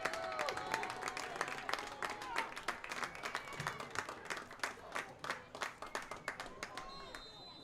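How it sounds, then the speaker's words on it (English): Crowd at a North Dakota high school football game between Devils Lake and Central Cass, steady cheering with rhythmic clapping that grows in bursts, a commentator's voice talking over it. "and this crowd about to get loud."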